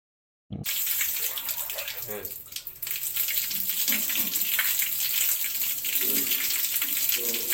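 Water poured with a hand scoop over soiled clothes, starting suddenly after a brief silence into a loud, close, continuous gushing splash with a short dip midway, then steady splashing to the end.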